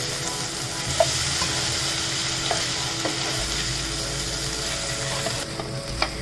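Yellow Thai curry with vegetables gets a quick stir in a pan, a steady wet sizzle with a few soft spoon scrapes and clicks throughout, fairly close and with no talking.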